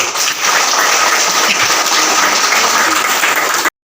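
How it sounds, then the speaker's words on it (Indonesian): A school quick-answer quiz contest, where the audience applauds a team with steady, dense clapping that lasts a few seconds and then stops abruptly. "kita beri aplaus untuk Regu C"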